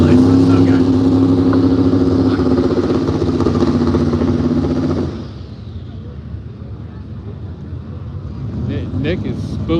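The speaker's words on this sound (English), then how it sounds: "Nick is spooling it up a lot." A no-prep drag racing car at a woods racing event holds a loud, droning engine note while spooling its turbo, then drops to a rougher idle with clattering mechanical sounds and a rising rev near the end.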